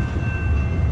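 A San Diego tram rolls past with a heavy low rumble of wheels on rails, while a clear, steady ringing tone sounds above it, close and loud for under a second.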